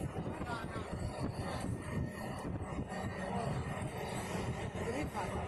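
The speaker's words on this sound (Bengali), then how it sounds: "ট্রেন ছেড়ে দিয়েছে আর দমদম থেকে নৈহাটি যেতে প্রায় ঘন্টাখানেক সময় লাগে" A crowded local passenger train moving from Dum Dum toward Naihati gives a steady, loud rumbling roar with rattling wheel and carriage noise throughout, and faint voices mix in.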